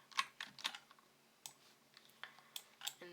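Computer keyboard keys are pressed in irregular bursts while working in 3D modelling software, with sharp close clicks spaced unevenly over a few seconds at moderate loudness.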